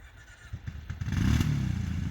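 A Kawasaki Brute Force 750 ATV engine freshly back from carburetor work and still needing a valve adjustment, idling with light clatter before swelling into a loud, steady rev that holds close by.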